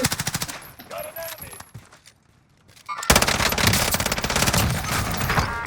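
Gunfire in Call of Duty Warzone, rapid automatic bursts up front, a brief lull, then a sustained loud stretch of fast machine-gun fire to the end.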